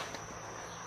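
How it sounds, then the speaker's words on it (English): Crickets chirp outdoors in a thin, steady high trill that holds for the whole second, faint and calm with no voices. "you can hear the crickets chirping"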